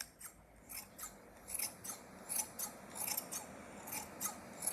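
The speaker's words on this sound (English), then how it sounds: "you're just going to essentially trim the pom-pom until it's even all over" Scissors snip repeatedly at a yarn pom-pom, trimming it even all over, with a steady run of short, crisp cuts close by and no talking.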